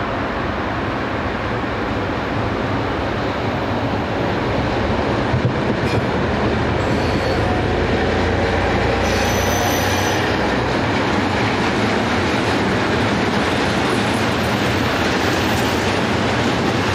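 A Class MX diesel locomotive, number MX26 operated by Lemvig, hauls a Danish freight train, a steady loud rumble of engine and rolling wagons with wheel noise running throughout and a brief higher squeal midway.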